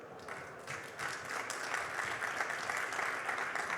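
Steady applause from an audience at a university awards ceremony in Paris, a dense wash of many hands clapping continuously at moderate distance, building slightly and holding without voices.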